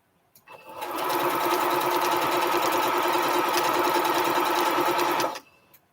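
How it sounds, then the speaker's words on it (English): A sewing machine running at medium speed stitches long quilt strips for a Triple Irish Chain quilt, starting after a brief pause and holding a steady, close mechanical whir for about four seconds before stopping abruptly. "I have my machine set at a medium speed to sew"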